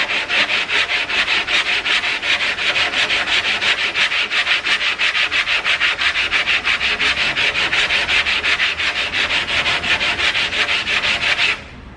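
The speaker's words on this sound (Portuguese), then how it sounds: "Vou começar a lixar aqui, ó, na parte que tá alta." Steady hand sanding of polyester body filler on a car panel during a home paint job, a loud continuous abrasive rubbing in quick even strokes, close up and alone, stopping just before the end.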